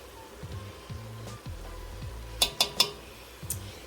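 A teaspoon of garlic powder stirred into a lasagna mixture, with a spoon giving three sharp clinks against the bowl near the middle, amid soft scraping and a low rumbling hum.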